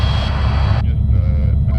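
The turbine engine of a police helicopter drones inside the cabin during a ride-along flight, a steady loud low rumble with a high whine above it that drops partway through.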